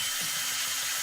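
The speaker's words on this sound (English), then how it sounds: "just drill it, spin it for 10 seconds and it'll straighten up" A handheld power drill spins a length of coil wire for several seconds to straighten it, giving a steady, loud, close-up whirring hiss that runs on without pause.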